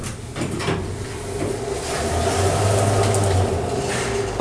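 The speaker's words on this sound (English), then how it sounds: "Let's listen to this amazing door operator." Schindler hydraulic elevator door operator in a cathedral, a steady mechanical whir and rumble with a low hum that swells midway, plus faint clunks and a sliding rattle as the doors move, close and fairly loud.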